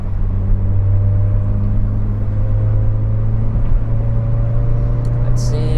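A Peugeot 405 Mi16 engine drones loudly and steadily from inside the moving car, a constant low rumble with a slight shift in pitch during rev matching.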